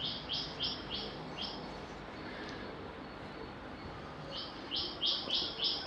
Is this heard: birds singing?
yes